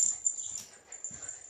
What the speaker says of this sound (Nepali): हाम्रो सानो कुकुरको बच्चा है